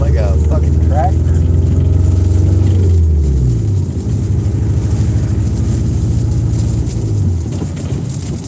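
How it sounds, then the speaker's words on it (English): A rough-running car engine throbs loudly at close range, sounding tractor-like and sputtering as if trying to backfire, with its pitch dropping and rising again over several seconds. "You hear my car trying to backfire?"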